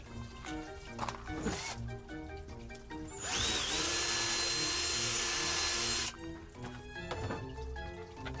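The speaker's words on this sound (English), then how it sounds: "we're just going to go to the next bigger drill bit and make it a little bit bigger" A power drill whirs loudly for about three seconds, a steady high buzz, between stretches of background music.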